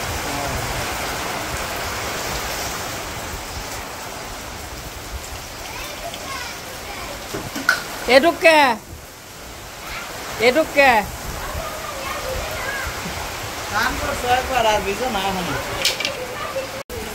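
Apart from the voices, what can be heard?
heavy rain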